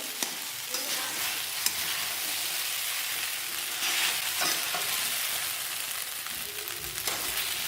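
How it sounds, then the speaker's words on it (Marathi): Sabudana (sago pearls) frying in a pan for sabudana khichdi, a continuous close sizzle with occasional scraping stir sounds and small clinks, no voices. "साबुदाणा आपल्याला झाकण ठेवून चांगल्या प्रकारे फ्राय करून घ्यायचा आहे"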